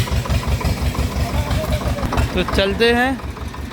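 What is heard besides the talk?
Swaraj tractor engine running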